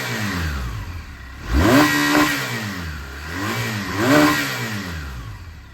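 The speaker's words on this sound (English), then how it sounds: "Let's give it a few revs, you can hear how she sounds." A 2015 BMW R1200RS motorcycle engine is revved twice at close range, each blip rising sharply from a low idle and falling back, with the idle rumbling steadily between.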